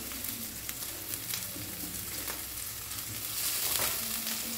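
Ginger and five whole seeds sauté over low gas in a pan for fish curry, making a steady close sizzle with light stirring scrapes that grows slightly louder toward the end. No voices are heard.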